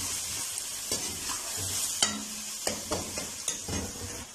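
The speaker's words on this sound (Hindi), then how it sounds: "अब डालेंगे सूरत मिर्च पाउडर, अच्छी तरह मिक्स करेंगे।" Chili powder frying with garlic in a pan for Pakistani-style egg macaroni, a continuous close hiss of sizzling oil broken by repeated spatula scrapes and clinks as the mixture is stirred, no voices.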